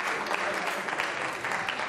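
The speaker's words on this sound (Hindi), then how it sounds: "राजेंद्र गुजर के लिए तालियां जोरों से बजाइए।" An audience at a Ramadan quiz show breaks into dense, steady applause, a continuous wash of many hands clapping close by, with no talking audible.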